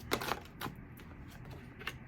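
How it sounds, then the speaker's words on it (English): Tarot card deck being shuffled by hand, a few quick papery riffles and flicks that come in short bursts, close and quiet, with no talking. "I'm just going to shuffle now for Leo."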